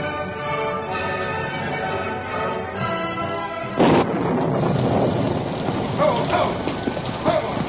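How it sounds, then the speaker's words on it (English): A thunderstorm breaks in an old-time radio drama, a loud crash of thunder rolling into heavy rain that follows a stretch of music. "The storm broke in all its fury as Bob reined up in front of his home"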